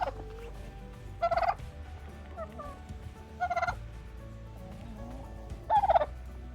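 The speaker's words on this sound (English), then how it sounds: "we've got some other mix of our white big-breasted turkeys there" White big-breasted turkeys on a small farm gobble in three loud, rattling bursts spaced a couple of seconds apart, with quieter clucks and farmyard background between them.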